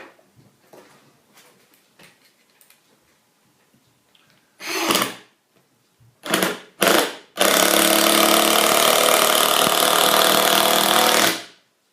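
A Craftsman Li-Ion impact driver drives 2.5-inch screws: a few short bursts of loud rattling hammering, then one long sustained run of close, aggressive impact whirring that stops abruptly.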